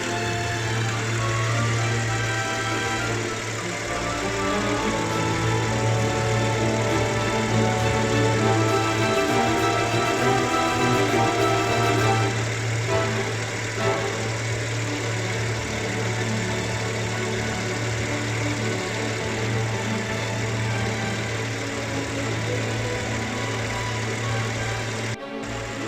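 A car engine idles steadily for the whole stretch during a vibration test, a loud, constant low hum with a strong rumbling tone and no pauses or voices.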